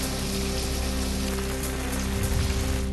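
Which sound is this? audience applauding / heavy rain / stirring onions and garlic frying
heavy rain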